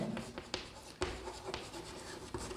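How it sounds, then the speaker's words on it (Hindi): Chalk or marker scratches and taps against a board during a chemistry lecture on vapour pressure in a classroom, giving short strokes with sharp knocks, close and moderately quiet, with no clear speech. "यही लिख देते हैं"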